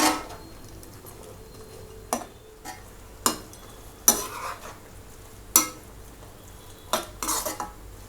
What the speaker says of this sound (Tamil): இப்போ இதை வந்து இந்த சாஸோடு நல்லா மிக்ஸ் பண்ணி விட்டுருங்க